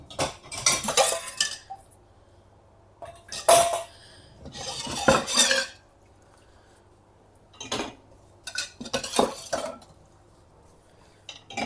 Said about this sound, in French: Tout va au lave-vaisselle.